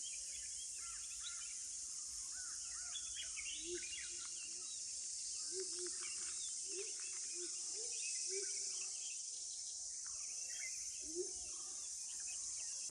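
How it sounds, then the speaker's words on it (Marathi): Morning birds call near a village garden in Konkan, scattered chirps and short calls repeating at a moderate distance over a steady, loud high insect or cricket drone that fills the background throughout. "सकाळी एकदम प्रसन्न वातावरण असतं पक्ष्यांचे आवाज वगैरे भारी येतात"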